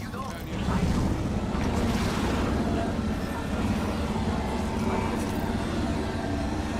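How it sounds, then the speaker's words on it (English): A whooshing, ocean-like rush resembling a seashell held to the ear, from an Apex Legends ultimate ability, holds steady and full for several seconds as a broad, wind- and surf-like wash. "My ult chat, it sounds like when you take a seashell and hold it up to your ear."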